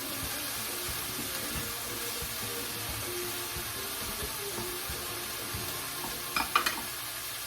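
Onions and garlic sauté in a pan for a potato, spinach and shrimp pie filling, a low steady frying hiss with a few clattering utensil knocks near the end; no speech.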